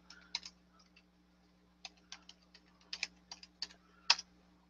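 Quick bursts of key clicks on a computer keyboard as a password is typed, quiet and close with irregular pauses, alone over a faint steady hum.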